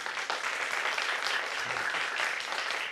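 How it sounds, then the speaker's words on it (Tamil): Audience applause fills a hall in a steady, moderate wash of clapping that holds for about three seconds without pause, heard at a slight distance. "அவங்கெல்லாம் கைத்தட்டுவான்னு எதிர்பார்த்தேன், கொஞ்சம் பேர் தான் இருக்காங்க போல இருக்கு"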